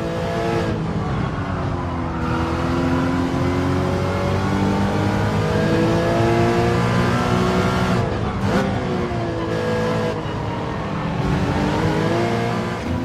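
A race car engine in Gran Turismo 7 revs hard through a lap, climbing and dropping in pitch with gear changes and braking into the final corners, loud and continuous with no talk.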